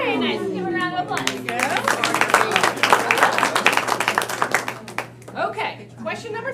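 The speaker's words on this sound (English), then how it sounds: "Give a round of applause." Applause at an online team meeting with a game-show style quiz, a short burst of clapping mixed with voices talking over it and a steady background hum.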